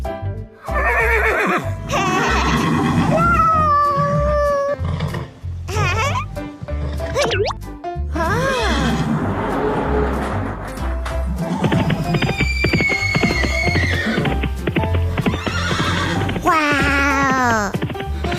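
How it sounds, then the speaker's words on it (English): Horses neigh and whinny repeatedly, loud and close, with rising and falling calls over about eighteen seconds, accompanied by hoof clip-clops and other animal noises. "Horse."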